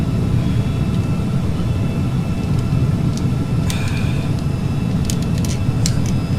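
Carenado Falcon 50 business jet in the Prepar3D flight simulator, a steady loud cockpit engine roar with dense low rumble throughout, broken by a few faint short clicks and tones from cockpit systems.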